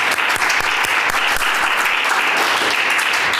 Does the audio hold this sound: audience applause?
yes